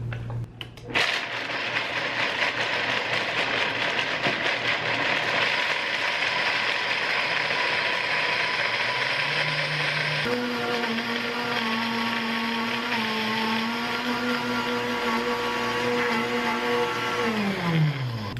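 A Hamilton Beach 55000 Proctor Silex high-powered blender runs loud and continuous, its motor whine shifting and dropping in pitch partway through as the load changes, then winding down at the end.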